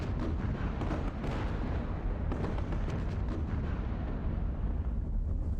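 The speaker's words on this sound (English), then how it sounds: "let's fire a couple of rounds and machine gun firing here" Sherman tank cannon rounds and machine-gun fire in the wargame Squad Battles, a dense continuous rumble of distant booms and rattling bursts throughout.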